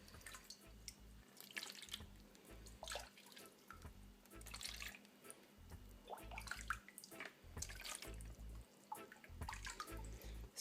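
Water drains from an internal aquarium filter into a basin, a soft, continuous trickle with uneven splashes and drips, quiet and close, with no talking.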